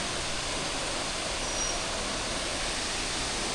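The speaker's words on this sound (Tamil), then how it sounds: "இப்போ வந்துட்டு ஒரு 3 இடத்துல தண்ணி ஊற்றிக்கிட்டு இருக்குங்க" Waterfall in Thrissur district, Kerala, pouring steadily as a broad, even hiss of falling water, continuous and unbroken with no voices.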